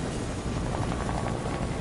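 A helicopter in the video game Fortnite gives off a steady low rotor whir and engine drone, close and continuous with a faint rhythmic chop, with no talking over it.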